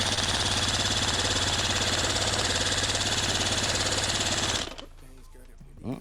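Old outboard boat motor on an aluminum deep-V boat cranking and sputtering as it tries to start, a loud rapid chugging rattle for several seconds that cuts out abruptly, leaving quiet.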